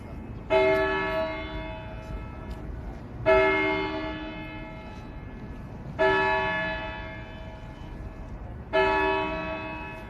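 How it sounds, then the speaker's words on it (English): Outdoor courthouse noon bell tolls four times at an even pace of roughly three seconds, each strike ringing out and decaying, heard from nearby at a street protest. "There's that noon bell, guys, right behind us, ringing up there at the courthouse."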